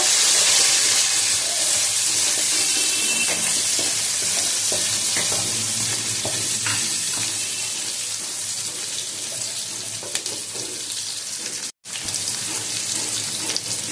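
Potatoes and onions fry together in a hot pan with a continuous loud, hissing sizzle and occasional stirring scrapes, close up with no voices.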